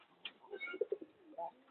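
Pigeons coo softly in a short, quiet burst of a few low rolling notes, close by with no voices over them.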